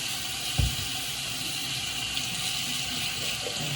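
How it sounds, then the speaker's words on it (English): Hot water running steadily from a sink tap into a basin, a constant close splashing stream with one brief knock near the start. "Hot water before I wrap my hand up."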